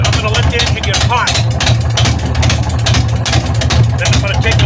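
An engine with exhaust-wrapped pipes and pushrod tubes idles steadily while warming up, a loud, close, continuous low rumble with background noise over it.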